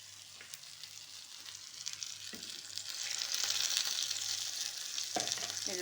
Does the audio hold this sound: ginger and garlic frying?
yes